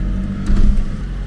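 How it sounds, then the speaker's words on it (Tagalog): A car engine idles while warming up before driving off, a steady low rumble with a brief swell in the middle, close by and without talk over it. "papainitin natin ang sasakyan bago paandarin"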